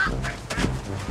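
Several people imitate duck quacks during a group ski lesson while walking like ducks, a few short nasal voiced calls in quick succession over a steady outdoor background.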